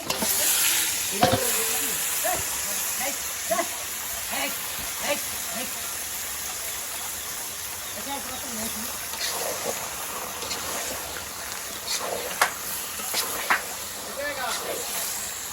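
Drained chicken meat for khichuri tipped into a hot pan, giving a loud, steady sizzle and hiss with occasional stirring scrapes, while people talk over it.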